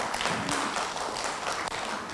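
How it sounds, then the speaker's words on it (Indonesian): Brief burst of audience clapping for co-facilitator Mas Ernam at a training workshop in Sidoarjo, a steady patter of many hands throughout. "Tepuk tangan dong buat Mas Ernam."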